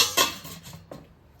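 A metal magic pot lifted from dum cooking of home-style chicken biryani: a sharp clank of metal on metal, then softer scrapes and a second knock as it is set down, close and alone.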